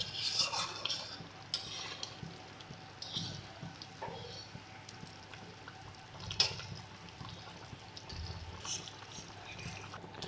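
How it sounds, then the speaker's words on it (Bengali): Stirring a milk shukto mixture with radhuni powder in a pan, a soft, continuous scraping and swishing of a spoon under faint background hum, with a few brief clinks. "ভালো করে মিশিয়ে নেব এটাকে।"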